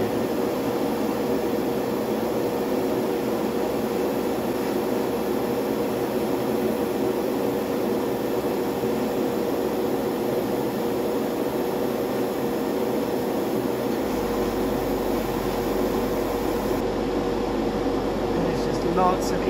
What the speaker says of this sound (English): So I fire away, let the air through, come back. Once the paint starts coming out, I keep it there and I move the airbrush away.